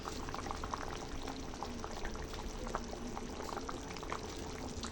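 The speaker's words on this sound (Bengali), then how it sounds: "এবার আমি মাছগুলি দিয়ে দেবো এক এক করে" A pot of Bengali fish curry with potato, radish and tomato bubbles steadily at a boil as pieces of mirka fish go in, giving a continuous, even burble that stays close with no talking.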